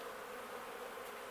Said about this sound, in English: there's a little bee right there